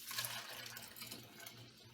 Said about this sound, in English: I'm going to pour my batch right in there from the gallon jar.